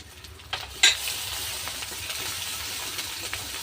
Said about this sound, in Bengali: আমি একটু ভালো করে কষিয়ে নেব মশলাটাকে।